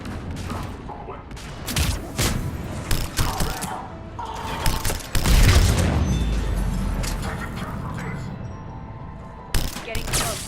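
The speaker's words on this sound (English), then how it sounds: "Those cannons have to be stopped." Heavy booming cannon fire and gunfire in the video game Mass Effect 3, repeated blasts and rumbling explosions over a busy battle din, with a voice speaking partway through.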